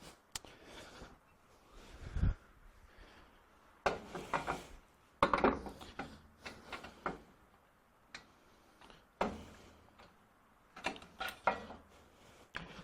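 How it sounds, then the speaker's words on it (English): Sliding an aluminum fence back onto the guide rail of a Rikon 10-326 bandsaw gives a run of sharp, close clicks and light metallic knocks, scattered unevenly over quiet, with no talking. "So we'll just slide that fence into place. Slide it back onto the track."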